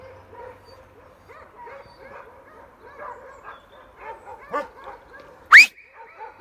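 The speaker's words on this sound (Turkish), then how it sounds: "yaklaşık 4-5 tane köpek var." Four or five dogs bark and yip at a distance, overlapping in irregular bursts, with one sharp louder yelp near the end.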